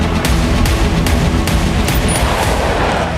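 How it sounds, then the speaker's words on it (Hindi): A garage burns fiercely after a Hezbollah rocket strike in Tel Aviv. The blaze roars loud and dense, broken by a rapid, regular run of sharp bangs and pops. "धमाके के साथ एक गैरेज में भीषण आग"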